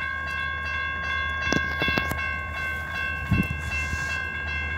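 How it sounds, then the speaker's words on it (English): A long train rumbles past in Jacksonville, Florida, with a steady low roar, sustained whistle-like tones and a few metallic clanks and squeals, close and continuous. "Looks like a somewhat long train."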